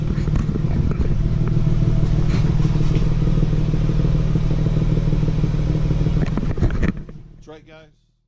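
BMW 335i with the N55 engine, VRSF catless downpipe and Corsa exhaust, warm after a drive, idling with a loud, deep droning rumble that holds steady before cutting off abruptly near the end, close by.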